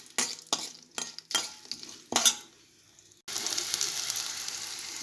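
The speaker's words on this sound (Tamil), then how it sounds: "இப்போ நம்ம கட் பண்ணி வச்சுருக்கிற வெங்காயம் பூண்டை சேர்த்திக்கலாங்க. இதை ஒரு நிமிஷம் வதக்கலாங்க." Chopped onion and garlic go into hot oil for mango kulambu, bursting into a steady loud sizzle after several sharp clinks and stirring scrapes of a spoon against the pan.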